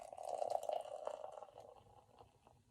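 Blackwing beer, a 12-ounce 4.6% can, poured into a glass: a bright glugging, fizzing pour that swells early, then tapers into softer bubbling and trickles.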